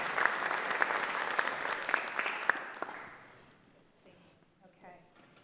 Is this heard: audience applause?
yes